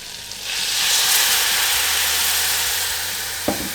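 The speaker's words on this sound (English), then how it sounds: "First of all, melt a knob of butter in a pan. And then add 3 to 4 tablespoons of whiskey." A splash of whiskey hits a knob of melted butter in a hot pan, bursting into a loud, steady hiss that swells and slowly fades, with a small clink near the end.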